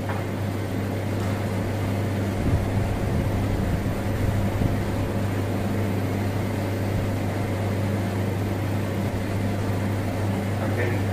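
A lab vacuum pump runs for membrane filtration, putting out a steady, droning hum with a tonal buzz. It continues unbroken at an even level throughout.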